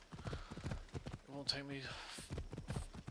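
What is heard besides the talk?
horse hooves in video game Assassin's Creed Odyssey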